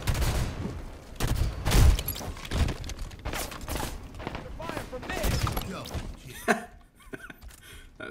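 Rapid bursts of gunfire in the Halo 5 Guardians multiplayer shooter crackle in repeated volleys, heard under and between someone talking and laughing over the action.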